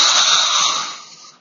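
A person snoring over a voice call, one long, loud rasping inhaled snore lasting over a second that fades out at the end, with a thin, band-limited sound.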